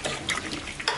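A pot of dalcha curry with eggplant is stirred briskly, a brief close scraping and bubbling swish under a soft simmering sizzle.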